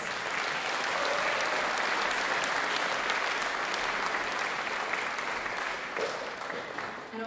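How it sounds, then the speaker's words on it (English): Audience applause at a university big band concert, a steady, dense wash of clapping that stays loud and even throughout, with no voices over it. "So please give a round of applause to our Big Band directors, Saran and Silas"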